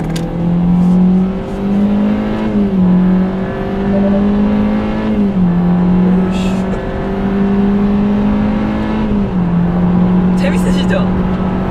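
A Kia K3 sedan with a 1.6-litre gasoline engine drones steadily while driving, its pitch rising and then dropping at each of several gear changes, with a person speaking over the engine noise.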